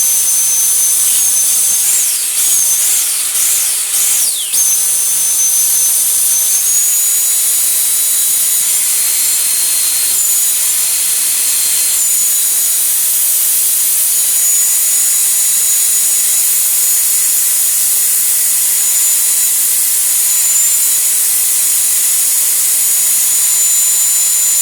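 A Numatic vacuum cleaner runs while losing sealed suction. It makes a loud, steady, high-pitched whine and hiss close by, with a few brief rising and falling tones early on and no talking.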